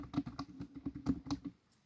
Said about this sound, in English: the computer keyboard clicking